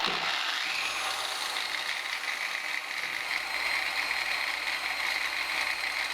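A Dewalt DWE 4118 angle grinder runs steadily at its minimum speed with a constant high whine and a dense mechanical buzz, loud and close, unbroken throughout and with no voices.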